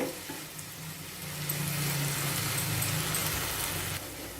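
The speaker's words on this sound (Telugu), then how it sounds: "ఇలా మధ్య మధ్యలో కలుపుకుంటూ దీన్ని మనం ఫ్రై చేసుకోవాలి" Tomatoes frying in a pan for a drumstick curry give a steady sizzle that swells after a second and holds loud and close, with a low rumble beneath and occasional stirring.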